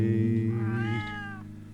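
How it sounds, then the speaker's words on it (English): A single drawn-out cat meow, clear and close, rising slightly in pitch before fading, with no other sounds around it. "Meow, the pussycat mews."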